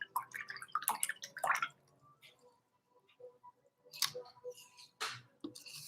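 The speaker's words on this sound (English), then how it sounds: "Here's how I'm rinsing my round brush out." A round paint brush being rinsed in a container of water, with close splashy swishes and drips in short bursts separated by quieter gaps.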